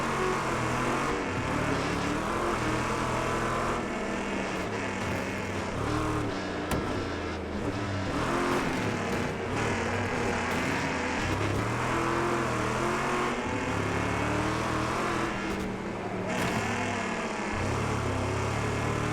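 Race car engine from WreckFest 2 droning steadily and loudly throughout, with shifting revs and harmonics as the car drives through an online session, no talking.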